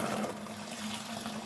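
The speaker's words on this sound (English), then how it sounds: "this is ready to go into the fermenter. I'm just going to bung it all in" Warm pale ale wort made with crystal malt and hops gushes steadily into a fermenter, a close, continuous splashing pour with no one speaking.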